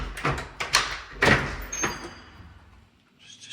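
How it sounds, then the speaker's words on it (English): The door out to a two-car garage in a Henderson, Nevada house gives a few quick knocks and rattling thuds, then a softer closing sound in a quiet indoor room. "That's your door out to the garage"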